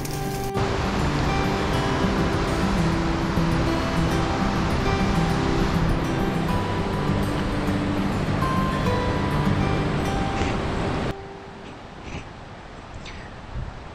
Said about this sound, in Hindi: बहती हुई नदी की सुरीली शोर है